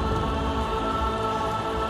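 Steady rain falls in the video game Little Nightmares 2, a constant dense hiss of drops on surfaces with a low rumbling undertone, uniform and unbroken throughout.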